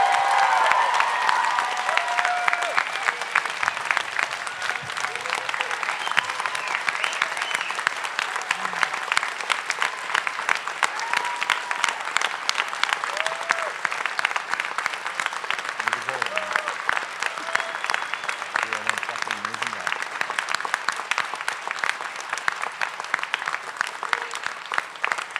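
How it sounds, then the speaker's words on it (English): A large audience at an author conference in Las Vegas gives a sustained round of applause lasting about 25 seconds. Dense, even clapping runs steadily throughout, with a few faint voices and cheers mixed in underneath. "Can I get a round of applause for the man?"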